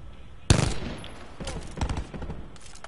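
Rapid bursts of automatic gunfire in a first-person shooter game, a sharp loud opening shot followed by clustered rattling volleys over about two seconds, with faint background game ambience.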